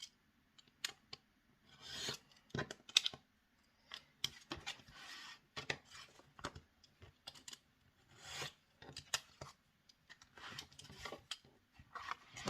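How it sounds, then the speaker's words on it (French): A small craft tool rounds off the corners of a handmade paper wedding album, giving a series of soft, close rasping clips and rubs spaced irregularly across the stretch, fairly faint and without talk. "on va couper les angles avec ce fameux petit outil"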